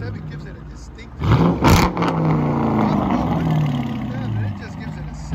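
A 2019 Dodge Charger R/T with a 5.7L HEMI V8 and dual exhaust with the mid muffler deleted blips sharply into a loud rev, then its deep exhaust note slowly winds back down close by.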